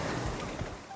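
Sea waves at a beach, a steady broadband wash of surf with faint wind noise, continuous and fairly even throughout the short stretch, with no voices.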